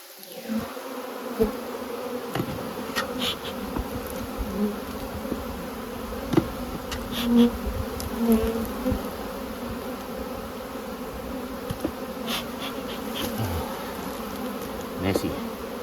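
Honeybees buzz steadily around a beehive comb during a hive move, a dense continuous drone with individual bees darting close and away, no voices.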